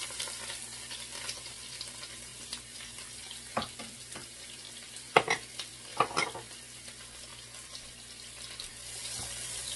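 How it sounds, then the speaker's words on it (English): Onion frying in a pan while being stirred, a steady soft sizzle with scattered scraping and clinking of utensil strokes, some louder bursts midway, no one speaking. "will make the onion cook until it's golden"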